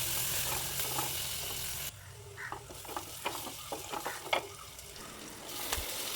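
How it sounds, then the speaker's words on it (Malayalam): Onion and tomato masala frying in a pan and being stirred, loud sizzling that suddenly drops to quieter crackling with scraping spoon strokes and small clinks, close by and without talk. "തക്കാളി ഇട്ട് ഇതുപോലെ ഇളക്കി ഒന്ന് മൂടി വെക്കുക"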